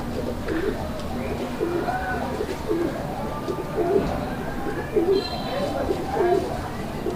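A male pigeon coos in a pigeon sale loft, its low throaty coos repeating in a steady rhythm close by, with other birds and some background voices mixed in.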